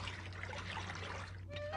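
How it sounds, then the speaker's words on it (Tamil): Tap water runs in a steady trickle while dishes are washed, a constant close splashing flow with a low hum underneath. "பாத்திரத்தெல்லாம் கழுவிட்டு இருக்கேல்ல ஷின்சான்."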